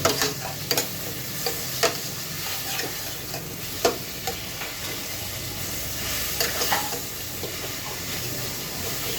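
A fish head fries in a pan with a steady, dense sizzle and hiss, broken by occasional sharp pops and stirring scrapes.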